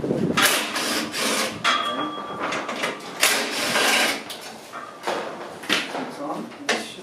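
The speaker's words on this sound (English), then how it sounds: "So we just need to unbolt these screws." Tool clatter and scraping while screws are unbolted from the hood latch of a 2004 Sprinter van, heard as close, irregular metallic bursts and rattles in separate spurts.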